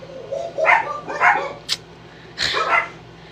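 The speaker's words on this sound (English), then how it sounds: "Those are my dogs." Two dogs bark in a short burst of sharp yips and barks, close and fairly loud, with a brief gap between volleys and a low steady hum behind.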